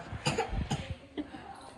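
Someone with a cold coughs close by, three or four harsh, short bursts in quick succession with a faint throat sound after.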